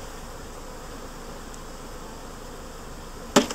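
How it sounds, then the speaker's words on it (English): A faint, steady hum of many honeybees buzzing as they are poured from a package into an Apimaye hive, with a brief sharp knock near the end. "make space there in the middle so that we can dump the bees in"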